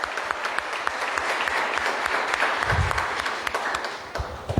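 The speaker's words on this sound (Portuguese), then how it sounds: "Você pode aplaudir o Senhor?" A church congregation applauding during a Sunday evening service, a full, continuous roar of clapping from many people that holds steady and close, with a few heavier low thumps partway through.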